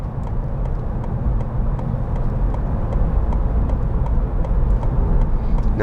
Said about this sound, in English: Yeah, traffic slowing down.